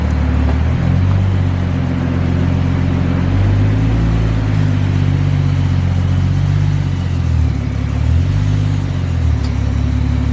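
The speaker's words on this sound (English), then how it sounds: "Oh, I hear Gene's car." A turbocharged Ford FG Falcon XR6 engine idles and revs nearby, a loud deep throbbing note rising and falling through several blips over a steady exhaust rumble, with no talking.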